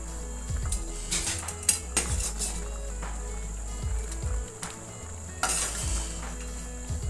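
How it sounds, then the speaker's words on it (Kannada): Thick paneer butter masala bubbling and sizzling in a pan while a spoon stirs and scrapes it, with soft clinks of utensil against metal recurring through a steady low simmer. "ಮಸಾಲ ಕುದೀತಾ ಇದೆ ನೋಡಿ"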